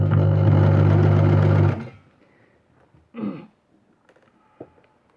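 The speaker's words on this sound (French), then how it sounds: "je vais descendre le long de la fermeture en essayant de coudre le plus près possible de la fermeture" A sewing machine stitching along a straight skirt's zipper runs as a loud, close, steady hum for nearly two seconds, then stops, leaving a short throat-clearing-like noise and a few small clicks.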